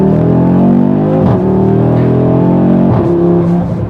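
A 2024 Audi RS3 (8Y) with a 400-horsepower engine accelerating: a loud, steady engine drone close by, with two brief dips where the pitch drops and climbs again, as if shifting gears.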